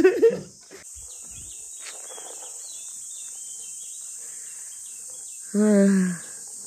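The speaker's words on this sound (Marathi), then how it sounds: "मस्त चिमण्यांचा आवाज येतोय." Faint, rapid morning chirping of sparrows in the background in Malvan, with a brief voice at the start and a louder tonal call near the end.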